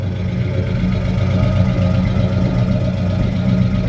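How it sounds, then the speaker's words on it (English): A 1953 Ford F-100 pickup truck engine idles steadily on a cold morning with a low, throaty exhaust burble, close and continuous, without speech. "this truck is it's got a great sounding exhaust"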